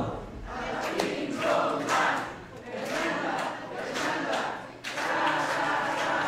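A party crowd at a quinceañera celebration chants in unison and claps along, loud and continuous throughout with rising and falling surges of voices.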